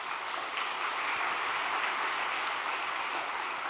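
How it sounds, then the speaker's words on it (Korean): Steady applause from a church congregation fills the space in an even, continuous wash of clapping, moderately loud and unbroken, with no voices over it. "김천교회를 위해서도 격려의 박수를 부탁드리겠습니다."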